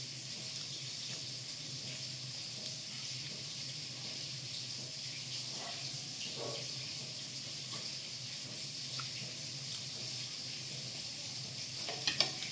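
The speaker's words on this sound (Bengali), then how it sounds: "এদিকে মাছ ভাজা হচ্ছে" Fish frying in a pan in a home kitchen, a faint, steady sizzling hiss running throughout with a few small clinks near the end.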